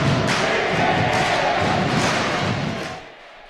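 A school volleyball crowd at a district tournament final roars with loud, continuous cheering and shouting, close and dense, before fading abruptly near the end.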